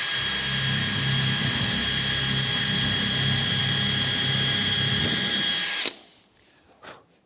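DeWalt 18V brushless combi drill boring through wood on a workbench, a loud, close, steady high whine lasting about six seconds before cutting off abruptly, followed by faint clatter.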